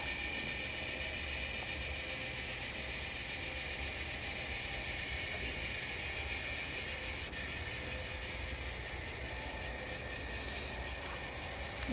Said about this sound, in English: they're going to pull the cars and stage them on the passing track